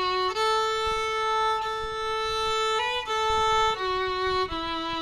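A solo fiddle plays the opening phrase of the tune Darling Nelly Grey, sustained bowed notes stepping between pitches with brief changes, clear and close with no talking.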